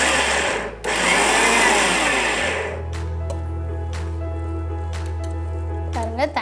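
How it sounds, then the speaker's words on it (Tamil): A kitchen mixer grinder grinds chana dal for pakoda, a loud whirring motor run that stops, followed by a quieter lower hum with faint clatter. "ஃபஸ்ட்டு வந்து ஒரு தடவை பல்ஸ் பண்ணிடுங்க, அதுக்கப்புறமா நல்லா அரைச்சிக்கலாம்."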